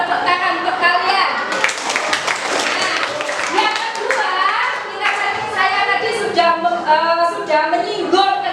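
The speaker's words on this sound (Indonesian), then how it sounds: "tepuk tangan untuk kalian" A classroom of children claps during an Islamic religious education lesson, with scattered uneven claps under chatter and a teacher's voice that continue throughout.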